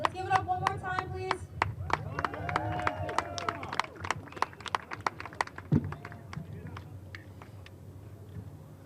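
An audience at a youth rally for community gun violence prevention claps and cheers, steady applause with scattered sharp claps and crowd noise building then gradually thinning out.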